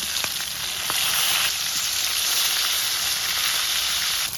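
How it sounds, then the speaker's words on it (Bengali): Pangas fish frying in hot oil in a pan, giving a steady, dense sizzle throughout with faint crackles and pops, close and fairly loud, with no talking. "মগো পাঙ্গাস মাছটা কড়া ভাজি দেওয়া হয়ে গেছে"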